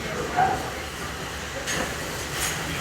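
Steady rumble and rattle of a passenger train ride around Magic Kingdom, a continuous rolling clatter close by with faint scattered background noise and occasional brighter squeaks.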